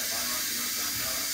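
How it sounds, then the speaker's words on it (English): Steam escaping from a pot of vegan wedding soup after cooking, lid just removed: a steady, loud broadband hiss throughout the short moment, continuous and close, with no distinct pulses. "We'll give this a few seconds to release whatever steam is left."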